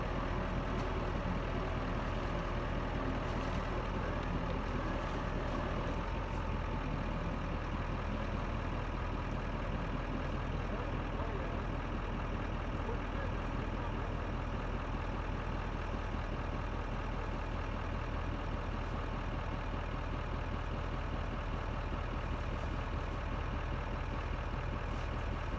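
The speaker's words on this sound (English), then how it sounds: "The truck's moving a little bit." A truck engine rumbles steadily and loudly throughout, a heavy low drone that never lets up, with no speech.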